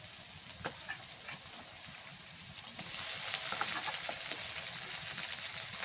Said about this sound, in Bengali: এবার দিয়ে দিই পেঁয়াজ রসুন জিরা বাটা